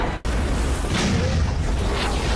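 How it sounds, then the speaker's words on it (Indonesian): An explosion blasts through an iron door: a loud, deep boom bursts out at once, followed by a heavy rumbling roar that lingers and echoes for a couple of seconds. "Ledakan dahsyat itu mampu melubangi pintu besi sehingga mereka bisa keluar."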